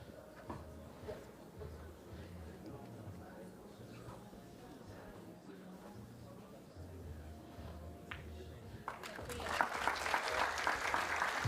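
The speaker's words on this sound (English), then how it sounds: "Big applause for the junior final." Spectators at a junior final clap and cheer in a burst that rises near the end after a stretch of quieter crowd murmur and commentary-like talk, the clapping growing dense and bright over the last two seconds.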